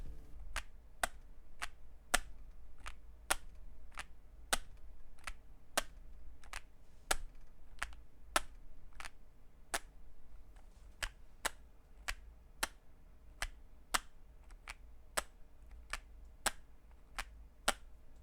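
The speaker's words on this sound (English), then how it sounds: "So it does have the typical top out sound that Gateron switches have" Gateron Orchid mechanical keyboard switches produce sharp, close, isolated clicks of the top-out return, repeated evenly about twice a second over a quiet background.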